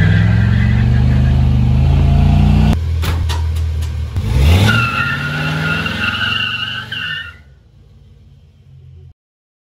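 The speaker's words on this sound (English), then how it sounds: "this is a dead stop and I'm just gonna punch it" A car with 3.73 gears and a G80 locker in the rear launches hard from a dead stop, engine roaring as both rear tires spin and squeal loudly for several seconds, then the noise abruptly drops off to a low idle.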